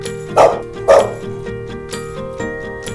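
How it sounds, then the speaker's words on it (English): A dog barks twice in quick succession, close and clear, over light background music in a children's alphabet cartoon. "D for dog."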